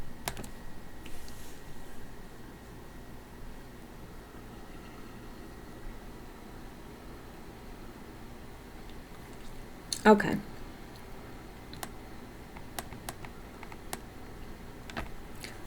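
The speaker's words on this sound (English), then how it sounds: "Somebody got mad at me for clicking my little down button." Computer keyboard down-arrow key being pressed, a few sharp isolated clicks with one louder burst, over a quiet room hum; a person speaks briefly.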